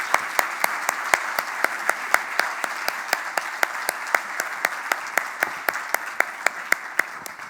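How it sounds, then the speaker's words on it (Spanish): A conference audience applauds steadily after an immunology talk at a scientific meeting, dense continuous clapping with sharp individual claps standing out across the whole stretch. "Despedimos con un fuerte aplauso al doctor Botasso"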